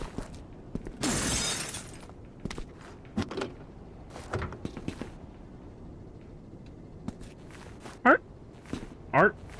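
Glass on a Humvee shatters in Resident Evil 6 with a sharp, bright crash near the start. Footsteps, thuds and a couple of short squealing sounds follow, with faint game voices in the mix.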